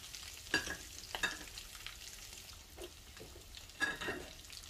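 Spicy tuna and sweetcorn fishcakes fry in a pan, a faint, quiet sizzle broken by a few soft crackles and brief stirring scrapes, with no voices.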